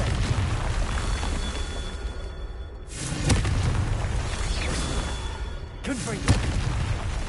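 Confringo spell explosions in a Harry Potter video game, with deep booming blasts bursting repeatedly over dense, continuous game noise, and a voice shouting the spell.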